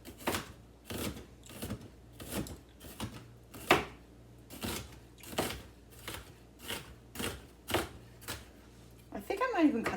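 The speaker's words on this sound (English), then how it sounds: "I'm going to cut these in half and then cut them" Knife slicing halved onions thinly on a cutting board at home, about a dozen crisp, evenly spaced chops in a steady rhythm, close and clear, ending with a brief rustle.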